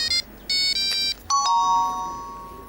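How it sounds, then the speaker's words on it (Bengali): A phone ringtone plays a bright electronic melody of several short chiming bursts, then a final sustained tone that fades out, heard clearly against a quiet room. "এখন আবার কে ফোন করলো?"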